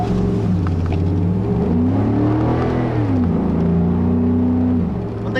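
A 2013 Ford F-150 XLT pickup with a 5-liter V8 engine drives along, its steady engine drone rising and falling in pitch as it accelerates and shifts, loud and continuous throughout.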